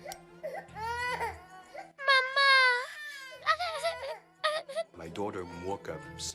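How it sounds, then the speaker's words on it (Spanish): A young girl wakes suddenly in a beachfront hotel room near the Red Sea, crying and wailing in loud, sobbing bursts with short breaks, while an adult voice speaks quietly in between. "Mi hija se despertó de repente gritando, como si algo hubiera pasado."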